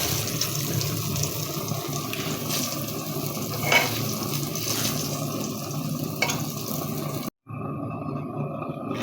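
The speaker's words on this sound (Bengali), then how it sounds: "জালি ভাজা সবগুলি হয়ে গেছে।" Jali, a snack, frying in hot oil in a home kitchen, a steady close crackling sizzle that runs continuously before cutting off abruptly near the end.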